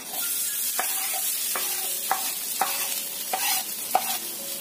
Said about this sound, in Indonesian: Masukkan sosis dan juga wortel ya.